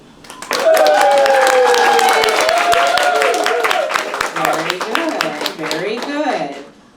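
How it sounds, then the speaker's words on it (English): An improv comedy audience at a St. John's Armando show claps and whoops, a dense burst of hand claps mixed with cheering voices that swells quickly and slowly tapers off. "can I get a round of applause for those of you who have seen a ton of live improv"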